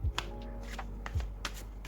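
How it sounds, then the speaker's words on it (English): A deck of tarot cards being shuffled clumsily during a card reading, giving a few soft, brief riffling and slapping bursts against a low steady hum, faint and close, with no speech. "clumsy shuffle."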